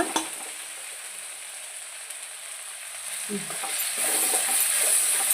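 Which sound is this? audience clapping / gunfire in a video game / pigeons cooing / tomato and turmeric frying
tomato and turmeric frying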